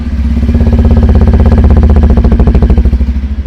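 A 2025 Bajaj Pulsar 125 Neon motorcycle engine idles loudly up close, a steady rhythmic thumping that wavers slightly near the end.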